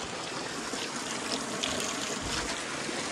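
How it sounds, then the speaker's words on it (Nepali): Cold mountain water flows steadily at a chilly high spot, making a constant close, full trickling rush with no pauses. "यहाँ फेरि यस्तो पानी बगिरहेछ"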